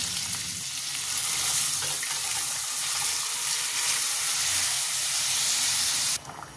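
Dal poured into a hot tempering with asafoetida, producing a loud, close, hissing sizzle that holds steady for several seconds before dropping off abruptly at the end.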